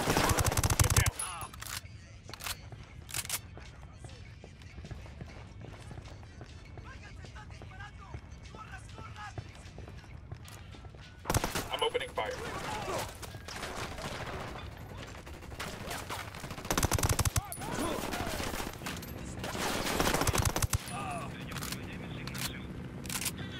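Gunfire in Ghost Recon Wildlands, with loud bursts of shots at several points across the clip over a steady game background, and voices faintly present at times.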